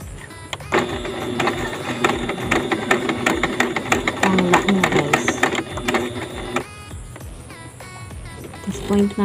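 Janome sewing machine stitching at close range, a loud, rapid mechanical chatter that runs steadily for several seconds, then stops and leaves a quieter hum.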